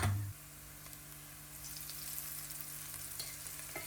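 Onion masala frying in oil in a home kitchen, a faint steady sizzle running throughout with a brief clatter at the very start.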